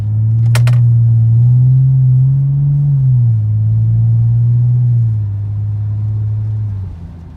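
A car fitted with an aftermarket exhaust pulls hard from inside the cabin, a loud steady droning rumble that climbs in pitch, drops back as the gear changes, then holds and fades near the end.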